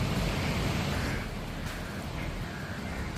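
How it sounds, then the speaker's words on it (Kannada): Heavy ocean waves break fast on a beach at night, a continuous loud wash of surf with a roaring broadband rush and slight swells in intensity. "ನೋಡಿ ಎಷ್ಟು ಫಾಸ್ಟಾಗೈತೆ ಅಲ್ಲಿ ಅಲೆಗಳು. ಕಡಿಮೆ ಅಲೆ ಅಂತೂ ಇಲ್ಲ, ಸಖತ್ ಹೆವಿ ಅಲೆ ಇದೆ."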